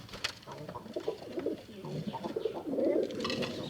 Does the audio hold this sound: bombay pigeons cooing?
yes